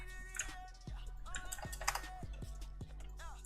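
Keys clatter on a computer keyboard in a short burst of typing code, with sharp, irregular clicks over a steady low background hum.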